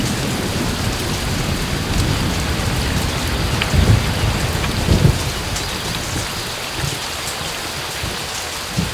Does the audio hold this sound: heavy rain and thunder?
yes